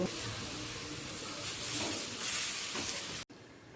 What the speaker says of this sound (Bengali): আর বেগুনগুলোতে লবণ আর এক চিমটে হলুদ দিয়ে তেলের মধ্যে দিয়ে দিলাম দু পিটি ভেজে নিয়ে তুলে নেব